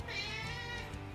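A domestic cat meows indoors, a single drawn-out, close call lasting about a second over low room hum.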